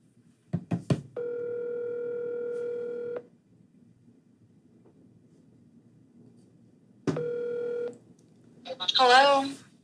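Telephone call being placed: two stretches of steady multi-tone dialing or ringback tones, one long and one short, separated by near silence, preceded by a few clicks and followed by a voice answering.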